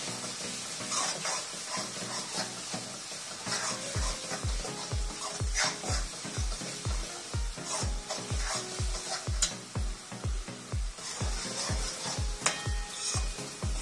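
Turmeric and coriander powder being stirred into a simmering gravy for green chickpea curry, a rhythmic run of thick scraping, squelching strokes close up over a faint sizzle, steady and repeated.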